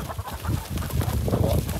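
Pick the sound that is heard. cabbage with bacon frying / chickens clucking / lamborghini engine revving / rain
chickens clucking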